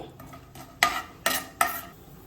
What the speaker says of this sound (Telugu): ఇవి ఇప్పుడు కొంచెం కలుపుకుందాము